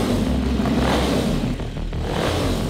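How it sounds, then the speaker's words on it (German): A stunt motorcycle engine revs loudly through its exhaust at close range, rising and falling in a couple of throaty surges with a slight clatter. "Digga, was ein geiler Auspuff."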